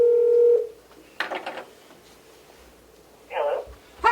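A telephone on a meeting-room speakerphone gives a steady tone, then short electronic dialing bursts and a brief ringing tone, with speech in between.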